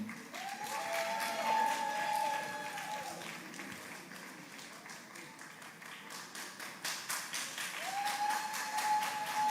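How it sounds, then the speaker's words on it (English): An audience at the grand finale of a beauty pageant applauds steadily to welcome a contestant, a dense wash of clapping that swells and dips, with music tones and a voice faintly over it. "Don't stop clapping until she comes up."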